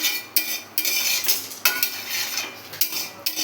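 Cooking at home with water, a metal utensil scraping and clinking against a pot in uneven strokes, close and fairly loud, with no voices.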